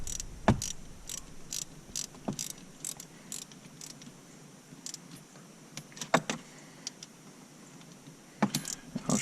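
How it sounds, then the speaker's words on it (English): Sharp metallic ratchet clicks come in short bursts with pauses while bolts are tightened on the Barton shifter of a 2020 Dodge Challenger Hellcat, close and loud with no talking. "I'm gonna tighten these up first that are on the shifter"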